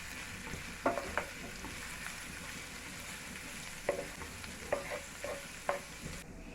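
Grated garlic and ginger frying in hot oil in a frying pan, with a low continuous sizzle broken by several sharp clicks and scrapes of a spoon stirring, quiet and close, with no talk.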